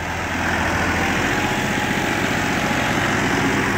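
A Massey Ferguson 9500 tractor of 58 hp works a field with a 16-disc harrow, its engine roaring steadily and close at constant load throughout.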